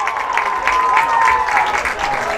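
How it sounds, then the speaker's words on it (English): Crowd at Langhorst Field applauding during an Elmhurst versus DePauw college lacrosse game, steady clapping from the stands throughout, fairly loud and spread out. "a nice round of applause from the crowd here at Langhorst Field"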